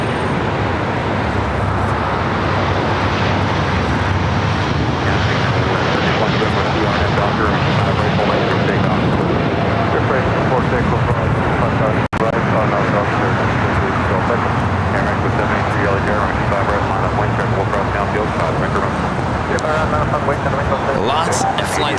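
Jet airliners and Boeing 777 freighters at LAX, heard as a steady, loud, broadband engine roar that holds for the whole stretch, with voices talking over it.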